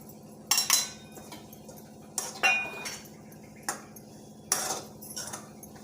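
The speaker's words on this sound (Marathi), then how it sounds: "आता आपण खोबरं भाजून घ्यायचं आहे" A spatula scrapes and clinks against a pan while coconut is dry-roasted without ghee for jaggery methi laddoos. There are a few short, sharp scrapes at uneven intervals over a quiet background, with no talking.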